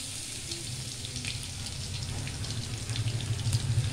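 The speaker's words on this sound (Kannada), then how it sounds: "ಸೊ ಅದನ್ನು ಇವಾಗ ನಾವು ಒಗ್ಗರಣೆಗೆ ಹಾಕ್ತಾಯಿದ್ದೀನಿ." Finely crushed garlic sizzles in hot oil for tempering, with a soft, steady crackle and scattered pops. The frying builds a little louder toward the end, and nobody speaks.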